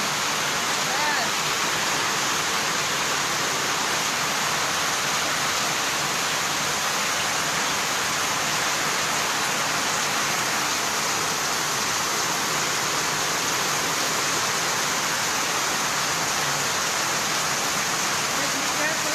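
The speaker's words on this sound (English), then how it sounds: "It's heavy rain." Heavy typhoon rain pours down in Sorsogon, a dense, steady hiss of downpour that stays loud and unbroken throughout, with no gaps or voices cutting through.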